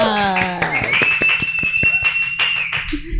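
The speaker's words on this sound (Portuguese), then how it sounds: "Uma salva de palmas!" A small podcast audience in Brasília claps to welcome a guest, a handful of sharp, separate hand claps in quick succession after a speaking voice, with a thin sustained high tone running through.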